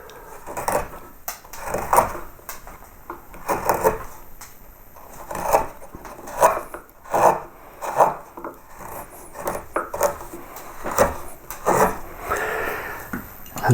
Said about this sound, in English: I'm going to use this deep gouge, this is a number 10 gouge, in between these knuckles here. So take a big bite out of there.